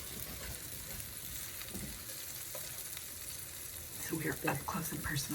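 Zucchini fritters bound with flour and egg fry in a pan, a steady close crackling sizzle throughout with brighter spatters near the end while a person talks over it.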